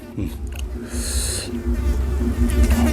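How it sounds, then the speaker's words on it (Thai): Flies buzzing close by at an outdoor Thai meal of spicy papaya salad with pickled field crab and crispy pork, a wavering insect drone rising and falling over a low background rumble. "แมงวัน"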